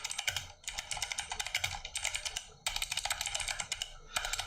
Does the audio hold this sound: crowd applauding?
no